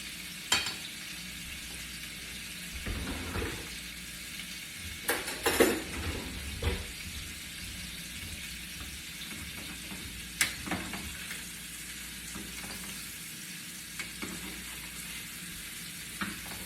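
Thick steak sizzles in a hot pan with a constant crackling fry, broken by a few clinks and scrapes of utensils against the pan.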